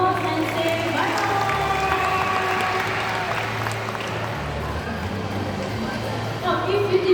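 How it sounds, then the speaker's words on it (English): Applause and crowd noise at the end of an evening show at the Night Safari amphitheater in Singapore, with steady clapping mixed with general audience hubbub and background music over several seconds. "Let's give them another round of applause and say bye-bye."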